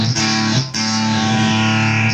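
Bass guitar, a baritone six-string, played through a Boss ME-8B bass multi-effects pedal with a distorted synth effect set to a very slow decay, giving a loud, buzzing sustained note that is re-struck once and then rings on alone.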